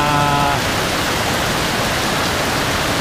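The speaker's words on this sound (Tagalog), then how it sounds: "bumuhos ang ulan" Heavy rain pours down steadily in Bugallon, Pangasinan, a dense, even wash of close, loud hiss that fills the whole stretch without a break, with a short tonal sound near the start.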